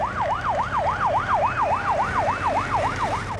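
An ambulance siren wails in a steady, rapid rising-and-falling cycle, loud and close, with traffic rumbling underneath.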